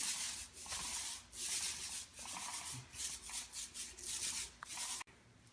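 Paint roller spreading Rust-Oleum epoxy floor coating across a garage floor, a soft repeated rubbing swish in back-and-forth strokes, close and quiet, ending abruptly.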